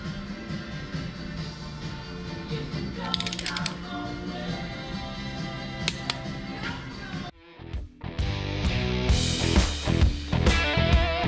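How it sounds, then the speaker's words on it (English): A ratchet torquing the injector hold-down bolts on a Duramax diesel engine during a rebuild, giving rapid close-up clicking pawl runs with mechanical clatter, a short pause, then louder continuous ratcheting. "these injector hold down bolts here get torqued to 39 foot-pounds"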